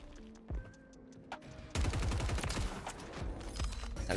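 Loud bursts of rapid gunfire in a ranked Rebirth shooter match, starting after a quiet stretch with a few isolated clicks, then a dense, continuous volley of shots and impacts to the end.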